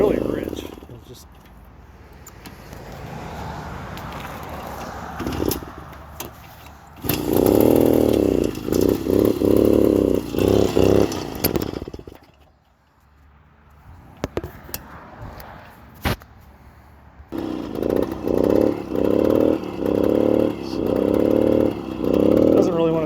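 A 1971 Yamaha AT1 125cc motorcycle engine running rich barely idles, its uneven two-stroke putter sputtering in bursts and dipping near stalling between louder stretches, heard close up with no talk.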